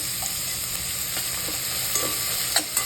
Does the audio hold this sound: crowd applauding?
no